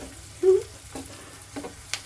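Tempering of asafoetida and curry leaves sizzling in hot oil for an eggplant dish: a soft continuous frying hiss with a few short crackling pops, close by and fairly quiet.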